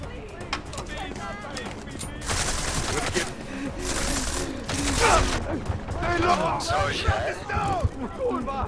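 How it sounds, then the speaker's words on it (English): Bursts of rapid gunfire crackle through a wall in Deus Ex: Mankind Divided, loud volleys breaking out mid-clip amid whooshing, mechanical clatter and chirping tones, with someone talking intermittently over the action. "Is that dude shooting me through the wall?"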